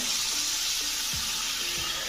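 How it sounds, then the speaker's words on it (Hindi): Water poured into a pan of frying chicken masala, giving a steady broad sizzle and hiss throughout, close and fairly loud, with a couple of faint low knocks. "इसका आधे पैन में पानी डाल रहा हूँ"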